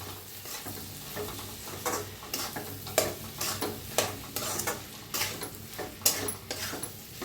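Crushed peanuts are stirred into cluster beans in a pan, a steady series of scraping, rustling stirs with soft sizzling beneath, each stroke rising briefly above a low background.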